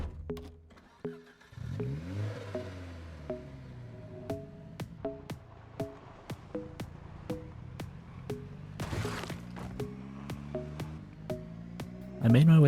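Car driving in the zombie survival game Project Zomboid, an engine revving and rising in pitch with a string of sharp periodic clicks or knocks, ending in a louder burst.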